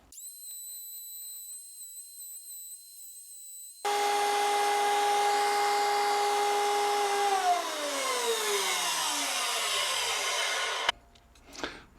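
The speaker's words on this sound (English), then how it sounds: "Router table all set to go." A loud router starts up with a steady high whine, runs for several seconds as it bites into wood, then spins down and stops; faint tones before it.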